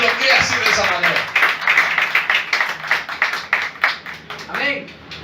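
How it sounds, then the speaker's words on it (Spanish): Church congregation clapping in a dense, rhythmic burst of applause that swells and fades, mixed with voices and shouts throughout. "Denle una ofrenda de palmas a ese Cristo de la gloria"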